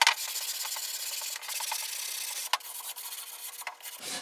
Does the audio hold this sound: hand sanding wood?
yes